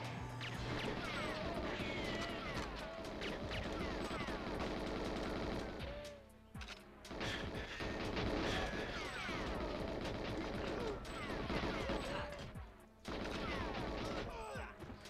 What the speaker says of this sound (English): And these guys are just automatically shooting.